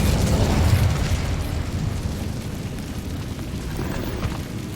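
Incendio fire spell bursting in the video game Hogwarts Legacy, a loud dense roaring blast that stays thick and rumbling for a few seconds with no talk over it.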